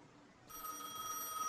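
A telephone rings inside the game Gas Station Simulator, a steady electronic ring that starts partway through and carries on, clear and moderately loud, with no talk over it.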